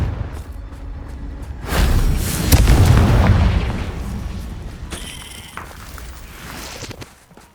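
A Confringo blasting spell explodes in Hogwarts Legacy with a heavy low boom that swells and rumbles for a couple of seconds, then fades into softer mechanical rattling.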